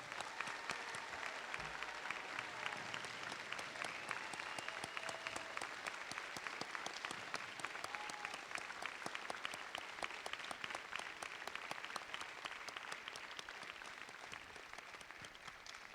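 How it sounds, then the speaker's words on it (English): A steady wash of audience clapping rises for graduating seniors at a senior recognition ceremony, dense and continuous throughout, heard from some distance and fairly faint. "Please join me in applauding the senior class of 2021."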